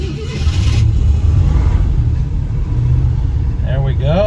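A 1966 Ford Thunderbird engine cranking and firing up, a loud low rumble that catches and settles into an idle, with a voice speaking briefly near the end.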